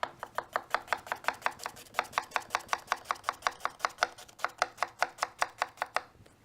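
A knife chops through an onion on a cutting board in rapid, evenly spaced strokes, about two dozen crisp taps in quick succession, close and clear with no talking.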